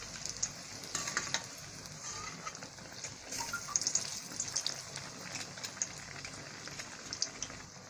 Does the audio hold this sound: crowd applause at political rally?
no